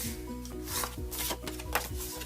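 Paper is burnished and folded along score lines, with rapid repeated rubbing and scraping strokes close by, alone and fairly quiet.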